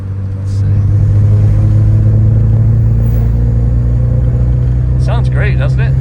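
Volkswagen car engine at a car meet holding a loud, steady idle-to-rev drone throughout, with a brief higher whine near the end and voices talking faintly over it.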